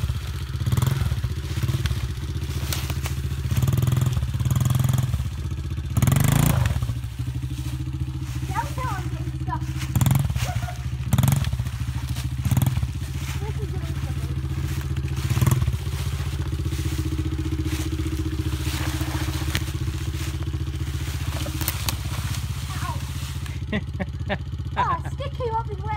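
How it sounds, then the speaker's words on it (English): Honda CRF70 dirt bike climbing a hill, its small engine droning steadily throughout with clattering thumps as it moves over rough ground, while people talk over it. "you want to use enough throttle to keep the bike moving forward, and then push the bike."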